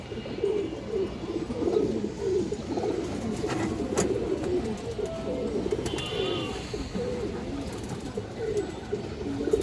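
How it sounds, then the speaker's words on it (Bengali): A rare-breed, purple-necked pigeon coos in low, repeated throaty phrases over a steady murmur of other birds and background noise, continuing through the whole stretch. "একদম রেয়ার ব্রিডের একটা কবুতর।"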